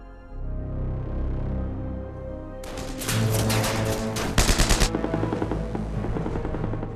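Machine-gun fire strikes Castle Itter from a nearby ridge: dense, rapid bursts of loud crackling shots break in abruptly after a low rumbling stretch, then fade into scattered reverberant pops.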